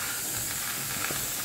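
Spices frying in a little oil with a fish head, a soft steady hiss and sizzle from the pan heard close and fairly quiet, without any talk.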